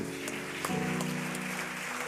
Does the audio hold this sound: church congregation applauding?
yes